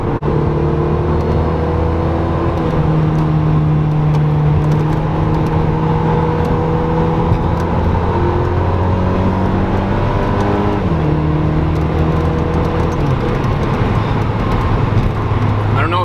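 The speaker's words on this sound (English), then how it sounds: "You guys can hear that engine sound, but for a 2-liter 4-cylinder, it actually sounds good." The 2-liter four-cylinder engine of a 2011 Mazda MX-5 hums loudly and continuously from inside the cabin, its pitch rising and shifting through the gears.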